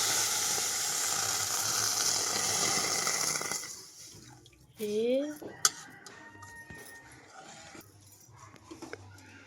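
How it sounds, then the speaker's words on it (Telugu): Water pours and hisses into a pot of moong dal with green chilies, tomatoes, curry leaves, onions and mango, a steady rushing stream that stops halfway, followed by quieter clinks and faint kitchen sounds. "ఉడికితాకి నీళ్ళు అయితే వసుకుంటున్నాను"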